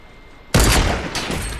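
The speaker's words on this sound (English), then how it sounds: "Who's sniping behind us?" Sniper gunfire in a video game: a sudden loud shot cracks after a quiet moment, followed by a second report and lingering rumble.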